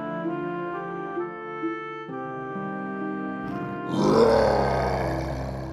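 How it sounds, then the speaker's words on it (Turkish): Roar of the beast from the Beauty and the Beast fairy tale, a loud rough growling burst that erupts near the end over gentle orchestral music and holds as it fades. "İşte tam o sırada yine bir kükreme duyulmuş ve canavar salona gelmiş."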